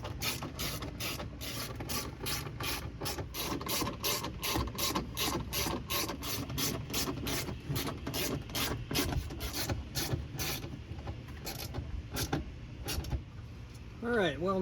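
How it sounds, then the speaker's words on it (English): Screws are threaded into an OEM roof rack rail on a 3rd-gen Toyota 4Runner, giving a steady run of close, rapid ratcheting clicks that continues for most of the stretch before easing near the end. "we're going to set our rail in place and start threading in our screws"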